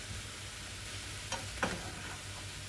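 Cashews frying in a pan for egg gravy, with a steady soft sizzle throughout and two brief scraping tosses close by midway.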